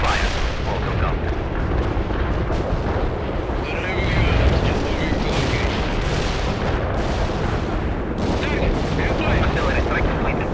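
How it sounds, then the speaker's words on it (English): Heavy artillery strike in the strategy game World in Conflict: a continuous loud barrage of booming impacts and rumbling blasts with no pauses, dense and close, with game voices speaking over the bombardment. "Heavy artillery strike fire."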